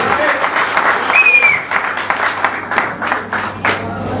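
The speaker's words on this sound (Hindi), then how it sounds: "एक जोरदार क्लैपिंग आप सभी लोगों की।" Loud, dense applause from a large audience at a business meeting in Ahmedabad, sustained clapping filling the hall with rhythmic swells and brief whistles near the start.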